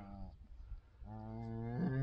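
A cow with a calf nearby in a farm pasture lows twice, long harmonic moos, the second one rising and swelling, heard moderately close with no talking.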